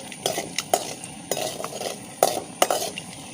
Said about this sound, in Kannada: ಈ ಬೆಳ್ಳುಳ್ಳಿಯನ್ನು ನಾವು ಎಣ್ಣೆಯಲ್ಲಿ ಚೆನ್ನಾಗಿ ಫ್ರೈ ಮಾಡಿಕೊಳ್ಬೇಕು.